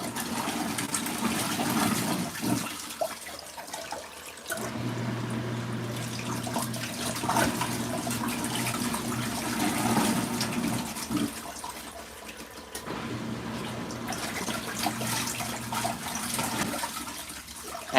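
Water sloshes and rushes inside an LG ThinQ Mega Ultimate washing machine during a rinse cycle, a continuous churning wash with periodic surges and brief lulls, heard close up.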